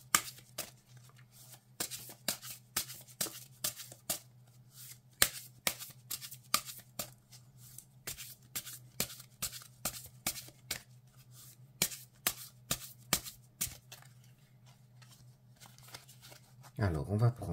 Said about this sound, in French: on va tout de suite tirer des cartes